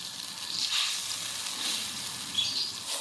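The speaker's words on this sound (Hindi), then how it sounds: "कढ़ाई गरम हो चुकी है। अब इसके अंदर हम मक्खन डालेंगे।" Butter sizzles softly in a hot kadhai, a quiet, even crackle with small fizzing spurts close by and no talking.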